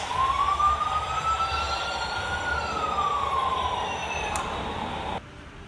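A police car siren wails in a slow rising and falling sweep, heard from aboard a passenger train between Temple and Houston, Texas, over a steady loud rumble that drops away near the end.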